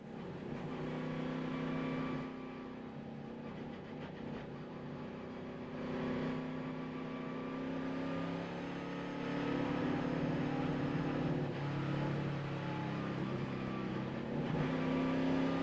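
NASCAR Cup race cars roar steadily around the Chicagoland Speedway during the 2006 USG Sheetrock 400, a continuous droning engine note heard from on board, with slight rises and falls in pitch and no talking.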